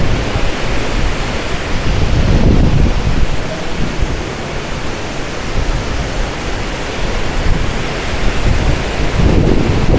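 Green Falls in Tago, Surigao del Sur, Philippines, a waterfall crashing down with a dense, steady roar heard up close, with gusts of spray-driven wind buffeting the microphone.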